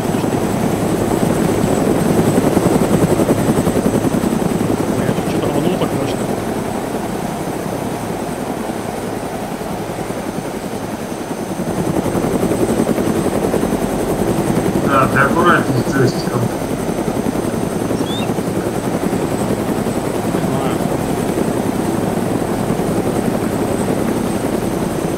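Helicopter in the video game DayZ hovering and flying, a steady broadband rotor and engine drone running throughout, with players talking over it.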